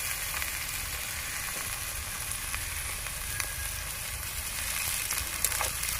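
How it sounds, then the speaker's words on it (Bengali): Onion frying in oil with ginger paste, garlic and green chili gives a steady, moderate sizzle with faint crackles, close and even throughout, with no talking. "আমি পেঁয়াজের সাথে মশলাটা এক মিনিটের মতো এভাবে ভেজে নেব"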